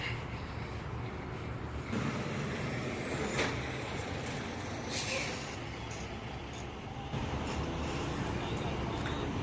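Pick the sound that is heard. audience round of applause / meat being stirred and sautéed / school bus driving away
school bus driving away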